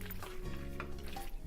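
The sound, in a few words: stirring peas into vegan mac n cheese in a pan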